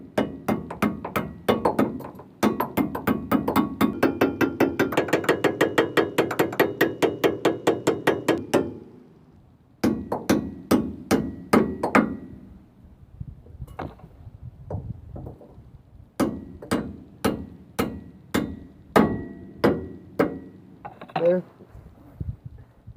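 Rapid, sharp metallic taps from a hammer on Dana 60 front brake parts come in fast bursts, then slower irregular strikes, close up with short pauses between runs.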